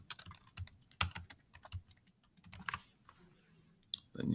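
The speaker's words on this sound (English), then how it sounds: "So type that in there." Quick, uneven bursts of typing tap on a computer keyboard, close and quiet with short gaps between runs of keystrokes, fading near the end as a faint low sound enters.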